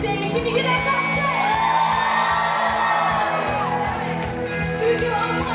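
A concert crowd at the Royale in Boston whoops, yells and cheers loudly and continuously in a dense, roomy roar, with steady rhythmic thumps underneath from the stage.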